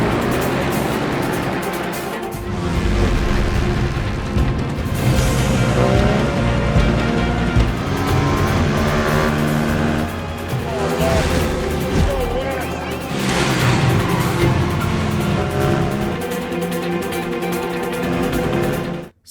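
Two-cylinder racing motorcycles launching off the start at a race as the green light comes on, a loud sustained engine roar with revving and shifting pitch over several bikes, layered with other sound throughout.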